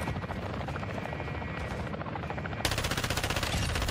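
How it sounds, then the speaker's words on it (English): A helicopter in Call of Duty gameplay roars with a loud, continuous thumping rotor drone, joined by rapid bursts of machine-gun fire, especially dense in the final second. "And our helo is dying over here."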